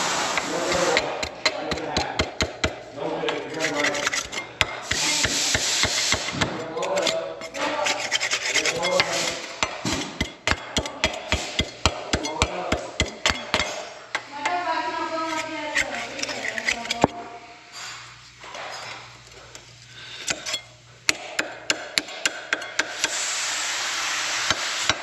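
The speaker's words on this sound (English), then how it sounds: "Gonna clean that groove out pretty good." Hand scraping and cleaning out a groove so a new part clamps on well, with a steady rasping, rubbing rhythm of short repeated strokes, close up and fairly loud, with brief pauses and a few voices talking between strokes.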